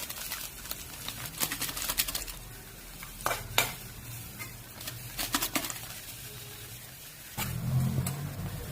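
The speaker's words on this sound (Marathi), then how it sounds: "हा थोडासा कोबी परतून घेऊया" Cabbage is sautéed in a pan for a gravy Manchurian, with bursts of scraping and stirring clatter over a soft, low sizzle that swells near the end.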